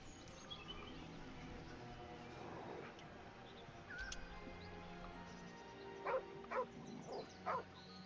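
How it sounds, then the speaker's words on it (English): A dog barks in the fantasy video game Baldur's Gate 3, giving four or five short, faint yips near the end over a low ambient background. "Poor little doggy."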